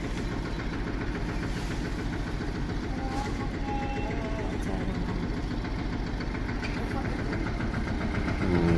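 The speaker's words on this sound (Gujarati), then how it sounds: "આ ટ્રેક્ટર આવ્યું જો નીણનો" A tractor bringing green fodder to cattle troughs in a village idles with a low, steady, even chugging throughout, fairly faint and at some distance.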